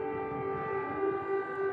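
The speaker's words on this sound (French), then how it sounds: "Partout, des sirènes préviennent du danger imminent." Air raid sirens warning of danger wail at the military academy in Sumy, northeastern Ukraine, a steady, sustained droning tone heard from a distance with no voices over it.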